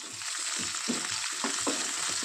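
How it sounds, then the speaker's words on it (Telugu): Onion pieces and green chilies fry in hot tempering oil for a bottle gourd curry, a close steady sizzle broken by rhythmic stirring scrapes, without any talking. "ఇప్పుడు ఆనియన్ ముక్కలు వేసుకోవాలి అలాగే పచ్చిమిర్చి చిలికలు కూడా వేసుకుందాము"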